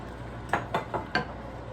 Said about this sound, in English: you want to keep stirring constantly until all of it